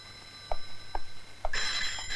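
A telephone bell rings in short, evenly spaced bursts before breaking into a sustained ring, close and clear with no talking.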